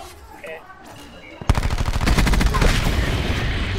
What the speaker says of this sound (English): Oh my god, they're all shooting at me